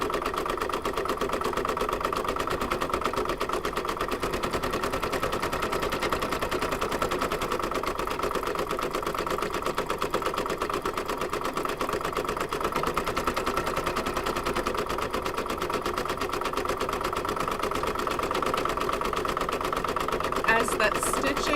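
An embroidery machine stitches a bean-stitch outline around an apple-shaped coaster, a rapid, steady mechanical rattling hum that runs continuously and close for the whole stretch.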